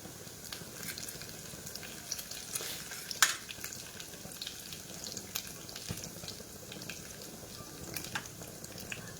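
Curry leaves, cut into pieces, sizzle in hot tempering oil with a steady close crackle and a few sharper pops, plus faint stirring and clinking throughout, with no talking.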